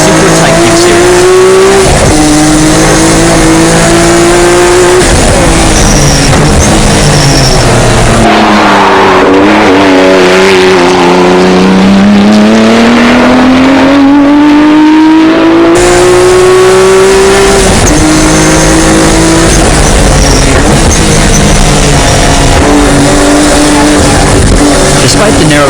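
Race car on Yokohama Super Type Q racing slicks lapping a track, loud close engine whine climbing and dropping through gear changes, with tyre squeal and a narrator talking over it.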